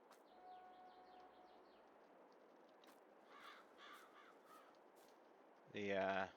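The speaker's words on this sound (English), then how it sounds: "The old crows are happy there." Crows caw in a series of faint, distant calls over a steady outdoor background hiss, followed by a sudden louder broadband burst near the end.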